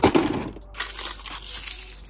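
A bunch of metal keys jingles and clinks as it is pulled out of a car during a search, with a sharp rattle at first and then lighter scattered chinks nearby.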